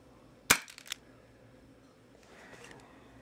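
An airsoft Dan Wesson revolver fires a regular shell through a chronograph: one sharp, close crack followed by a brief rattle, then a faint scuffle of handling.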